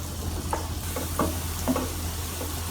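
Onion and garlic browning in butter in a pan, a steady close sizzle with a few soft stirring scrapes across a short stretch.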